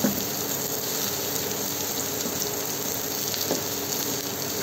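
Chopped onions dropped into hot mustard oil in a wok give a steady, loud, broadband hiss and sizzle that continues evenly throughout, with no voices.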